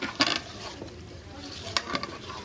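A spoon scrapes and stirs masala of green chili, kasuri methi, turmeric and Kashmiri chili in a pan for Odisha-style mutton curry, giving a few soft clinks and scrapes over a faint, low sizzle.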